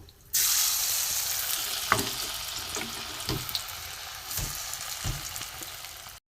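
Potato slices frying in oil for crispy aloo bhaja, a loud continuous sizzle with sharp crackles and stirring clicks scattered throughout.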